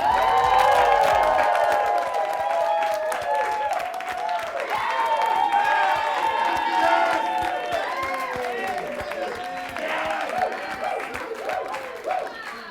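A studio audience cheers, whoops and applauds for a show host, a dense, loud, steady wall of clapping and shouting lasting throughout, with excited voices calling out over it.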